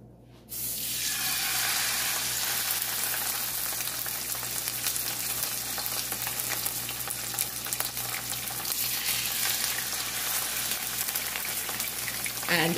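Salmon pieces fry in a pot of hot oil for brown stew salmon, a steady dense sizzle and crackle that starts abruptly after a brief quiet moment and continues close and loud with no talking.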